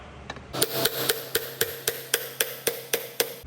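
A seal is tapped into a Peterbilt 379 truck wheel hub with a hammer, about eleven sharp, evenly spaced metallic knocks at close range, with no talking.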